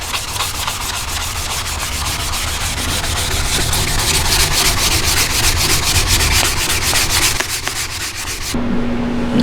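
Steady, continuous abrasive rubbing of a hazed, yellowed plastic car headlight lens being sanded with a 3M headlight polishing kit, loud and close for most of the stretch, then dropping to a quieter tone near the end.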